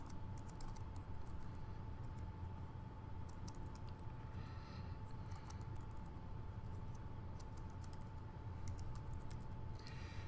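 Keys on a computer keyboard are typed in steady, rapid clicks while a response is entered into a quiz form, close and clear over a low background hum, with no talking.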